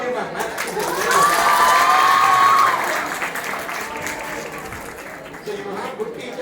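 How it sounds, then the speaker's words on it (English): Students in a classroom break into applause for a maths teacher, a warm burst of clapping that swells early and then thins out, with cheering and a few raised young voices mixed in. "Clap for him, maths teacher."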